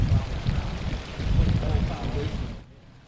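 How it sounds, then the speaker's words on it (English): Floodwater from Sequoia Creek pumped out of basements in Whitesboro makes a steady, loud rushing and splashing wash over a low rumble, continuous for most of the stretch before dropping away abruptly near the end. "The sounds of the Sequoia Creek being pumped out of basements again."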